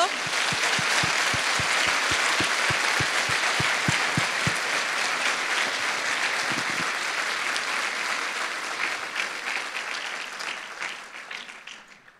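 Church congregation applauding after standing, a long dense wave of clapping with a steady rhythmic beat at first, sustained for about ten seconds before tapering off, with voices mixed in.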